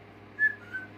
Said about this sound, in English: he whistled sharply